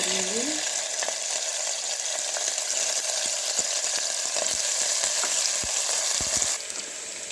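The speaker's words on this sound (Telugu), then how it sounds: "జీలకర్ర ఆవాలు ఇట్లా పట్ల ఉన్నాక దాంట్లో వెల్లుల్లి పచ్చిమిరపకాయలు" Garlic and green chilies frying in tempering oil with cumin and mustard seeds, a steady bright sizzle with scattered pops and crackles, close and constant, briefly dipping near the end.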